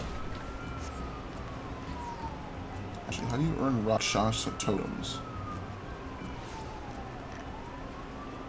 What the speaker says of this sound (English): Now I can hear the sirens too.